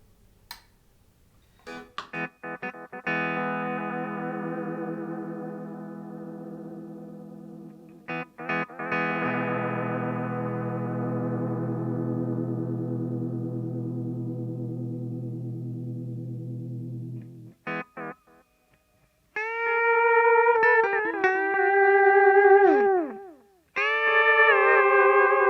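Sustained, swelling pedal steel guitar notes pass through a Keeley Caverns delay and reverb pedal on its deep setting, giving long washy tails. Short sliding phrases follow near the end, all played alone with no talking.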